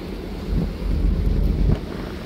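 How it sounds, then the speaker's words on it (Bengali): Strong wind on the river aboard the passenger launch Doyel Pakhi-10 travelling from Ilisha toward Dhaka. Loud, close buffeting wind rumble and hiss fill the whole moment, with no speech. "পাশে দেখতে পাচ্ছেন প্রচুর পরিমাণ বাতাস"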